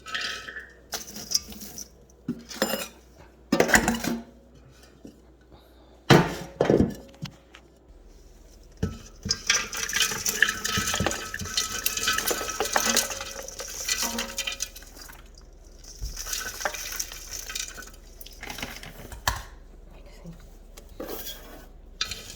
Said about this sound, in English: So let's go ahead and start filling the pot